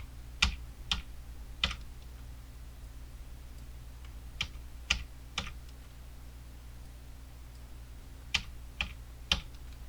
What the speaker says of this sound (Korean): Alt 키 누르고 방향 키 누를게요